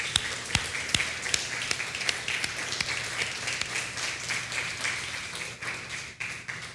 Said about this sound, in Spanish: Denle un aplauso al Señor esta mañana.